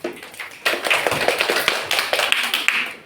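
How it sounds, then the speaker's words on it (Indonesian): Schoolchildren in a classroom clap for three classmates, a burst of many small hands starting abruptly and continuing as a lively, uneven patter for a few seconds. "tepuk tangan untuk teman kalian bertiga"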